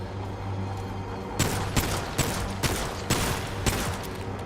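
Gunfire in the over-the-shoulder shooter Remnant 2: six sharp, loud shots spaced roughly half a second apart over a steady low game hum, with no talking.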